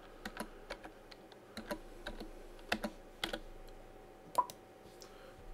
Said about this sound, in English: this is where you type in your activation code